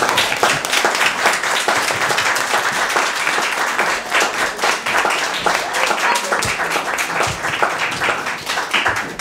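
An audience at a book event claps in sustained, dense applause for a speaker, steady and fairly close throughout, with some voices under the clapping.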